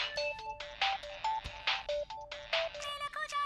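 A phone caller tune plays a bright, bouncy melody of short electronic notes in quick succession, clear and close with no talk over it.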